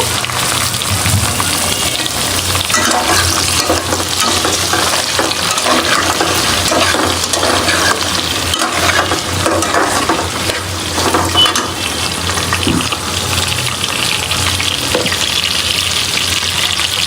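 Potatoes fry in a hot pan with fenugreek seeds and bay leaf, giving off a steady, dense sizzle that holds evenly at close range without pause.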